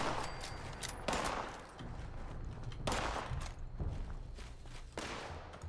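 Pistol gunfire in Fallout 76, heard as a handful of sharp, fairly quiet shots spaced a second or two apart over a low background din.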